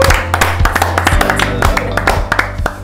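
A studio audience applauds and cheers for a singer on a street-show stage, a loud, dense burst of clapping close by lasting a few seconds.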